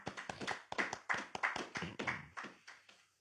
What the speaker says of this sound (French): Si on peut acclamer le Seigneur.